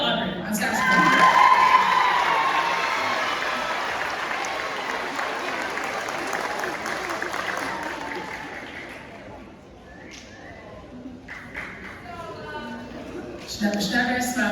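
Loud applause and cheering from a spring concert audience, swelling early and then thinning out, with whoops and scattered shouts, and a voice speaking over the fading claps near the end.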